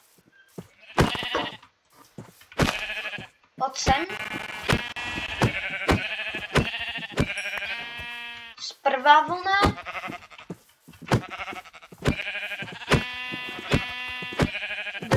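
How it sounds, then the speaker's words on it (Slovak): Video game sheep bleat in a survival game, with repeated nasal bleats scattered throughout at close range alongside game sound effects, while someone talks in Slovak over them. "Ovce tiež zabijem na posteľ."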